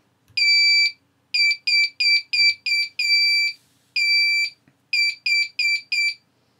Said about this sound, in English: when I flick the switch, not only will we hear the buzzer